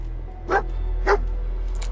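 A dog companion in Fallout 4 gives two sharp barks about half a second apart, close and clear over a steady low game hum, followed by a faint higher yip at the end.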